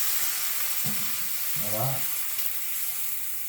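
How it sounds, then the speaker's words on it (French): White wine sizzles and bubbles as it deglazes and reduces in a pan of onions for onion soup, a steady bright hiss throughout, with a brief spoken word partway through. "Ça va permettre de déglacer, de récupérer tous les sucs de cuisson"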